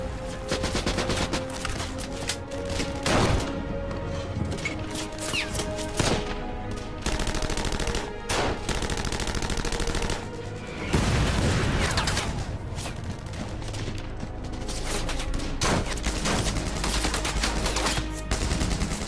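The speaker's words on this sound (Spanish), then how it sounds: "Los defensores del castillo devuelven los disparos, pero son superados en número." Sustained World War II gunfire as SS troops assault a castle, with bursts of machine-gun fire and scattered single shots, dense and loud throughout, with a brief lull midway.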